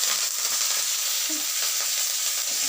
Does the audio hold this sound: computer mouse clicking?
no